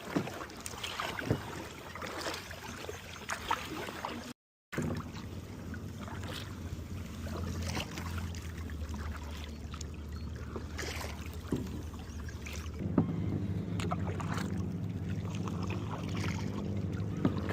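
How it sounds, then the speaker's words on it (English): Paddling a small boat through open water near an island, with soft rhythmic water swishes and splashes under steady wind noise, fairly faint and continuous. "Come on then, paddle."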